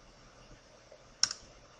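A single sharp mouse click while modeling in Autodesk Inventor, quick and close, with a softer second tick right after, over a quiet room.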